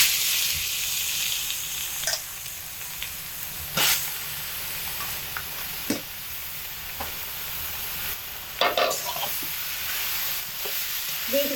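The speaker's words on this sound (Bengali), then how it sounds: "বিটগুলোকে পোস্তর সঙ্গে একসঙ্গে মিশিয়ে খুব ভালোভাবে নেড়ে চেড়ে নেব।" Grated beetroot stir-fried with poppy seeds in hot oil sizzles with a steady hiss, while a spatula stirs and scrapes the pan in occasional sharp knocks and clatters, close and fairly loud.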